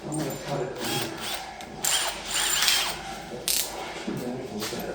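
A power tool cuts through hardware on an old Ironhead motorcycle, making a harsh, uneven grinding whir that surges and eases in several bursts at close range, with a voice talking faintly at times.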